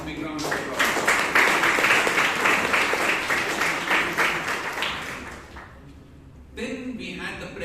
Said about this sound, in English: So please give him a big round of applause.